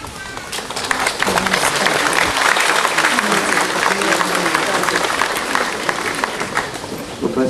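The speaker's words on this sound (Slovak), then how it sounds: "Potleskom ste vyjadrili súhlas" Audience applause at an outdoor Byzantine-rite Catholic church gathering in Klokočov on the Feast of the Assumption, a dense sustained round of clapping from a large crowd that swells quickly and holds steady.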